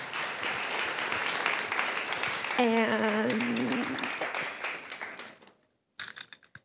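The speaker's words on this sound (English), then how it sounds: "Let's give another round of applause to all of our speeches." Audience applause fills a school assembly hall, a steady dense clapping that runs about five seconds under a brief voice and a tonal interjection, then fades out and returns briefly near the end.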